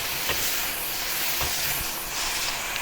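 King oyster mushrooms stir-fried in a spicy vegan Kung Pao sauce over high heat give off a loud, steady sizzling hiss, broken by a few soft knocks of the spatula.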